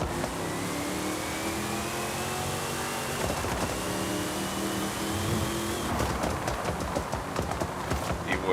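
Knight Rider KITT car with a drag tune driving in Forza Horizon 5, a steady engine drone with a rising whine, growing busier and more rattly toward the end.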